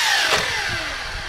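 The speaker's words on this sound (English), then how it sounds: "we're about 2/3 of the way through cutting up our lumber" A power saw whines steadily through wood, its pitch sliding slightly as it cuts, loud and close for a brief moment.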